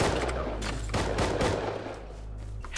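Video game gunfire in a survival shooter, rapid bursts of close shots layered over a steady low drone, dense for most of the moment before easing briefly near the end.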